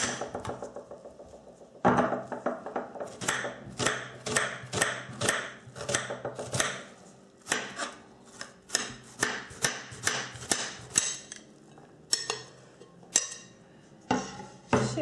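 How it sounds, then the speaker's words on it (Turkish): Rapid knife chops through onion striking a wooden board, a steady run of sharp, close taps with brief pauses, no talking. "Üzerine de hemen soğanımızı da doğrayalım."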